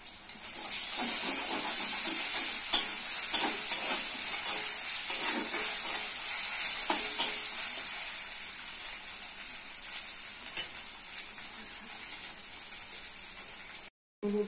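Chopped onion and ginger-garlic paste sizzle in hot oil in a pan, a bright continuous hiss with scattered crackles and stirring scrapes that fades slightly over time.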